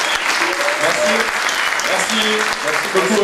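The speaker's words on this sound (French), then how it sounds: "je voudrais faire un tonnerre d'applaudissements s'il vous plaît pour Alexandre" Audience applause for Alexandre at a gathering: dense, steady clapping fills the whole stretch, with a voice briefly speaking over it.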